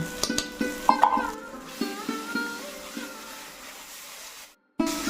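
Spices with turmeric frying in a pan, a soft sizzle with repeated stirring scrapes and clinks, fairly quiet and close, ending abruptly.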